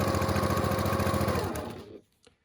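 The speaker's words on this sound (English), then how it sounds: "we're going to stitch along this line here" A sewing machine stitches a quilt block along a scant quarter-inch seam, a fast steady whirring run that slows and stops near the end, followed by a faint click.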